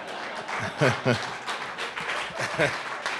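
Applause from an audience at a Cooperative Hall of Fame ceremony, a steady broadband clatter of many hands lasting throughout, with a voice speaking over the crowd.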